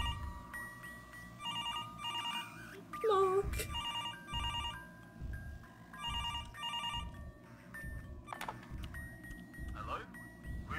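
A telephone rings in a horror video game, repeating in bursts of shrill electronic trills, with a voice talking over part of it.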